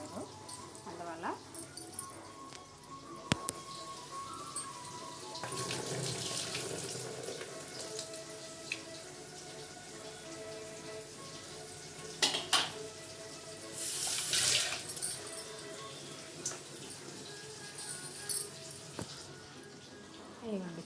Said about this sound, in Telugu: మటన్ క్లీన్ చేస్తాను. ఒకసారి కడగాలి.